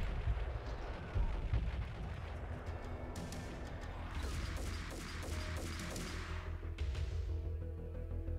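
Gunfire and explosions in the video game Max Payne, dense overlapping shots and booming blasts rolling continuously over a rumbling low-end game mix, with no talk.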